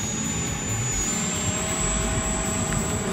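An FMS Futura V3 80mm electric ducted-fan RC jet hovers, giving a loud, steady, high-pitched whine over a broad rushing roar that holds constant throughout.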